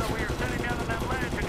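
In Medal of Honor, a machine gun rattles off a sustained, unbroken stream of shots, loud and near, with no pauses across the burst.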